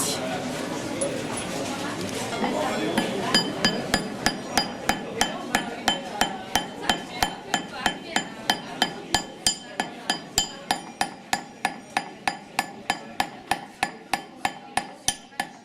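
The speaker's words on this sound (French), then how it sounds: "Je vais faire des bagues en argent pur, tapées au marteau." Steady metallic hammer taps ring out in an even rhythm, dozens of sharp close strikes hammering a pure silver ring at an outdoor market, after a few seconds of background voices.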